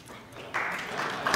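An audience at a talk about gift-giving breaks into a short burst of clapping that starts abruptly after a quiet moment and carries on under a faint voice.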